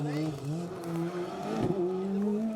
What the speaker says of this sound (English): The S2000 Fiesta sounding fantastic, winding up those revs on these Manx stages.